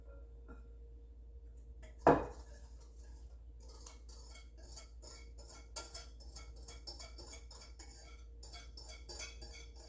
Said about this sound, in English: all you do basically is mix your wet in with your dry ingredients